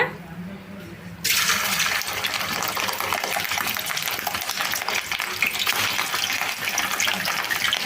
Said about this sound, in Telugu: చేప ముక్కలన్నీ కూడా ఇలా డీప్ ఫ్రై చేసుకున్నాను